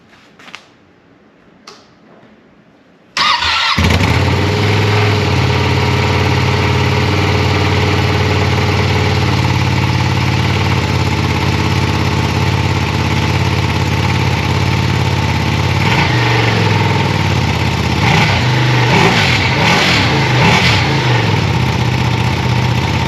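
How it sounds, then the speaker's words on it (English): After a few faint clicks, a 2023 Ducati Panigale V2 with stock exhaust fires up on a cold start, idles loudly and steadily, then revs in several sharp blips near the end. "I hope I can give you the best exhaust sound as a stock exhaust. It's gonna be a cold start."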